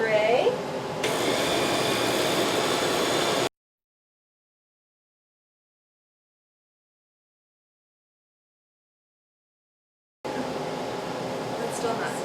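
A kitchen blender purees cooked apples for apple butter, a loud steady motor whir that changes pitch early, then cuts out into a long silence before starting again at a similar level.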